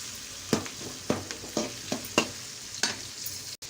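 Onions browning in hot oil for a Chettinad crab gravy, with a steady low sizzle broken by regular stirring scrapes about every half second, close and clear.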